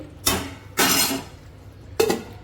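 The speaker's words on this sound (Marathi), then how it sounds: "तर झाकण ठेवते" A lid placed on a cooking pot, three distinct metallic clanks in quick succession, close and clear, with a faint ringing after each, over a quiet room.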